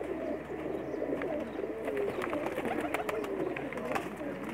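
Pigeons coo steadily in a chorus, several birds overlapping in low throaty calls, with chirps and flutters scattered throughout.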